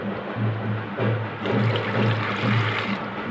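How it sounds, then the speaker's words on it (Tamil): Water pours steadily into rasam in a mixer jar for a few seconds, a full splashing gush that swells slightly midway, close and loud with no talking. "மறுபடியும் இதில் வந்து ஒரு 2 கிளாஸ் தண்ணி ஆட் பண்ணியிருக்கிறேன்."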